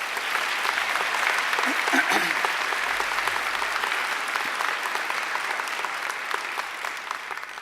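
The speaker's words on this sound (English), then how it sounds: "I think Angela deserves another great round of applause." Sustained, dense applause from an audience at a university graduation ceremony, hundreds of hands clapping steadily for about seven seconds at an even, full level.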